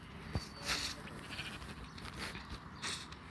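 Sheep bleating in the Minecraft video game, heard as a few short bleats over a steady background hiss with faint game noises and no talk.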